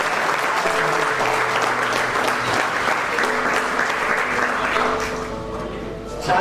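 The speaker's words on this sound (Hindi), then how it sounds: "मैं एक बार जोरदार ताली देता हूं" Sustained loud applause from a seated audience at an award and guest-honouring event, steady clapping filling the hall for several seconds before easing slightly near the end.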